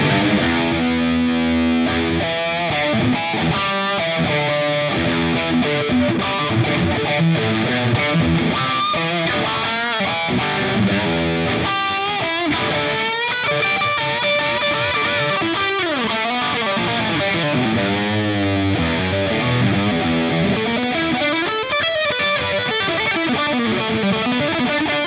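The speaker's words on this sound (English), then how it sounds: "the last amp that we've got here is a orange TONEX. So it's like based on a rock reverb 50 watt." Electric guitar played through an Orange Rockerverb 50-watt amp model on an IK Multimedia TONEX, a loud, continuous distorted tone of driving chords and sustained notes with rich overdrive, heard alone without talk.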